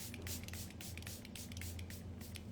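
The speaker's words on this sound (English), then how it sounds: "So I just spray that on." Oil face mist sprayed onto damp skin during a Korean skincare routine, a steady soft hiss of fine spray running close and continuous with a low hum underneath.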